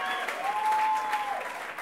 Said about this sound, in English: And you can also cheer for our winner, Maru, everybody.